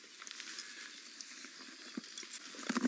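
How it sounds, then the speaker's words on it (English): Rain pattering during a morning safari drive in the bush, light irregular drops tapping over a steady wet hiss, with a few heavier knocks near the end. "So we thought the rain was gone, but it's just started coming in again."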